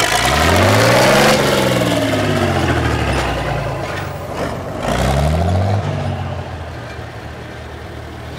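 A Volvo tractor with a 6.7 litre six-cylinder engine revs hard at a tractor parade, its loud engine note rising and falling through repeated throttle bursts before settling into a lower rumble.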